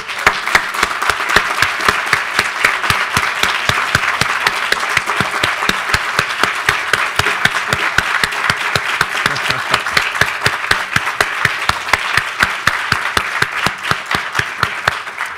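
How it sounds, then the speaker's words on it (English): Close, loud applause from a gathered audience at a university hall dedication, with crisp individual claps standing out in a steady rhythm over the crowd's continuous clapping. "we will give you a big applause"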